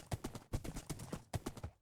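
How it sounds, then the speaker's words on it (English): A horse in Minecraft 1.10 makes quick, rhythmic hoof clip-clops in short bursts of steps. The sound is quiet and close, with no talk over it. "every time I hear my horse make that weird noise, I think it's a polar bear"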